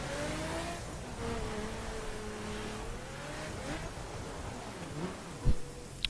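Car engine in the video game The Crew, driven up a steep hill and down a tricky descent, holding a steady buzzing drone with slight pitch swings and a brief louder burst near the end.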